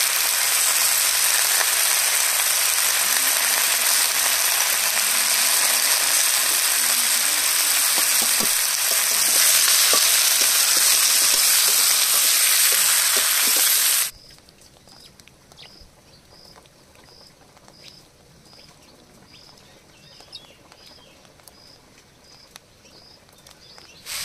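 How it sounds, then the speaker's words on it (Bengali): Malabar spinach and potatoes sauté in a pan with a loud, continuous frying hiss for about fourteen seconds, then the sizzle cuts out abruptly, leaving a much quieter background with faint scattered ticks. "পুঁই শাক আর আলু 4-5 মিনিট ধরে কষিয়ে নিয়েছি"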